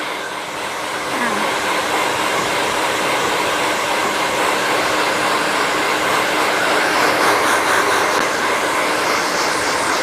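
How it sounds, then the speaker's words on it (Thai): A hair dryer blows steadily and loudly up close while hair is blow-dried during a salon straightening and perm treatment, a continuous airy roar with no pauses. "เป่า ให้ กระจายนะคะ"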